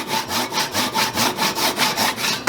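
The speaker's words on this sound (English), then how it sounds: "So using a Japanese pull saw, I do my best to cut to the line" A Japanese pull saw cuts wood for a farmhouse trestle table base, making about nine even rasping strokes in a steady rhythm, close and loud.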